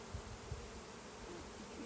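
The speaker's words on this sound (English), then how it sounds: "A lot of bees on the inside of this, in the front." Bees at the front of a beehive infested with wax moths, a soft continuous buzzing drone with a couple of brief louder passes, faint and close, no voices.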